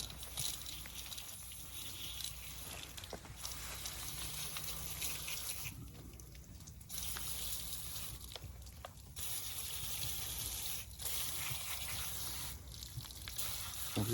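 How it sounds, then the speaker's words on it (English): A garden hose on a shower setting sprays water steadily over an RC car or truck during cleaning. The hiss of water runs fairly faint and continuous, with a few short pauses where the spray stops and starts. "we're gonna get the hose and just keep it on shower"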